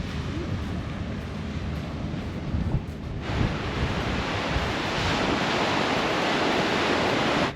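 Strong cold wind roars across an open sandy beach with dunes on Corfu, Greece, with the wash of surf underneath, a continuous broadband rush that grows slightly stronger partway through.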